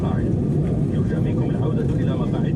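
Steady broadband roar of an airliner cruising above the clouds on a flight from the UAE to Turkey, heard from a cabin seat beside the wing, continuous and loud throughout.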